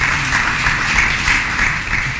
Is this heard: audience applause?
yes